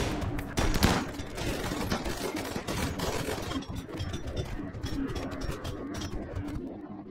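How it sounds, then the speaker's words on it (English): Weapon gunfire in the Rimworld video game: dense overlapping volleys of quick shots crackle almost without pause, loud at the start and then continuing steadily at a moderate level before thinning out near the end. "I love the new weapon sounds and animations"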